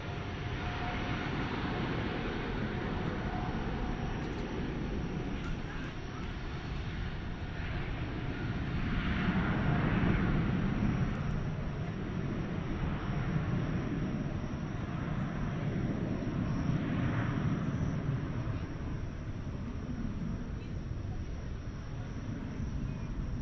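A Turkish Airlines jet heading for Istanbul from Dallas/Fort Worth at night: a broad, steady engine roar that swells gradually to a peak midway, then holds and tapers slightly, heard from a distance on the ground.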